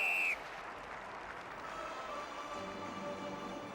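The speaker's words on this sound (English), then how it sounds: "Scotland met with rapturous applause as they prepared to face South Africa" A large stadium crowd applauds Scotland at the Edinburgh Sevens rugby tournament, a dense, continuous wash of distant clapping and cheering after a brief tone cuts off at the start.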